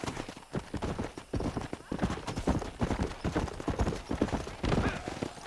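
Steady clip-clop of horse hooves trotting at an even rhythm in the video game Red Dead Redemption, close and fairly loud, with a soft whinny mixed in.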